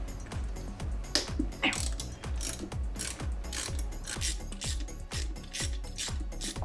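A ratchet clicks steadily in quick repeated strokes while loosening the fuel rail bolts on a Volvo XC90, each pass a crisp metallic ratcheting burst, close and fairly loud with no talk.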